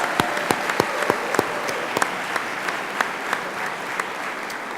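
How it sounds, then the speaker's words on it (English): At an athletic awards banquet, the audience applauds the state champion team with sustained clapping, a few sharper individual claps and whistles poking out above the steady crowd sound. "Let's give them a round of applause."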